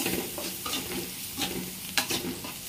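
Banana pieces frying in a pan with turmeric and salt, stirred steadily with a utensil that scrapes and clinks now and then over a continuous close sizzle.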